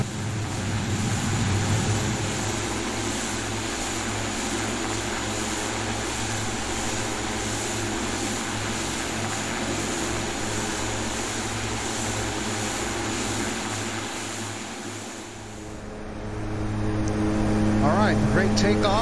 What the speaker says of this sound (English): Great takeoff